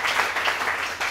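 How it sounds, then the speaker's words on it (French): A church congregation at a Sunday service applauding: dense, continuous clapping from many hands fills the space at close-to-moderate distance and holds steady for the whole moment. "On peut applaudir pour le Seigneur?"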